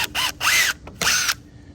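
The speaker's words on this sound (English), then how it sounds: "Don't forget to drill your pilot holes so you can countersink your rafter screws." A power drill bores pilot holes into wooden rafters for a chicken tractor build, three short loud whining bursts with rising and falling pitch, separated by brief pauses.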